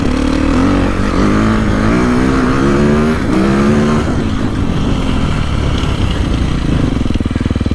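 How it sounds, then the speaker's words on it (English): A 2024 Beta 450RX dirt bike engine revs loud and close, its pitch sweeping up and down through repeated throttle blips before settling into a rough, steady drone. "as you kind of rev it out, it's got a really good, strong low end"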